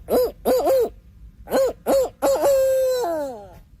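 A man imitates a barred owl with his voice, giving a series of rhythmic hooting notes that end in a long, drawn-out descending call, close and clear with no other talk.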